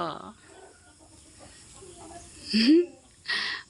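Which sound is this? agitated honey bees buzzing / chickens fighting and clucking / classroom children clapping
chickens fighting and clucking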